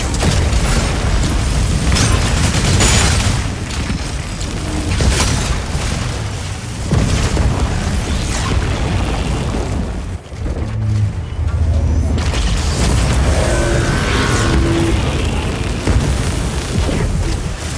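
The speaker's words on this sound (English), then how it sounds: "Explosion in the elevator's midsection." Explosions in the Mecha Break mech video game roar through an elevator's midsection, producing a continuous loud rumbling blast with crackling debris and a brief dip before the roar resumes.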